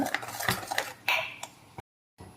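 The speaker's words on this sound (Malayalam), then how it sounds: "ഇത് നല്ലോണം ഇളക്കി കൊടുക്കുക" A spoon stirs powdered jaggery into pineapple curry in a pan, a quick run of close metallic clinks and scrapes against the pan, then a brief pause and one more scrape, with no talk.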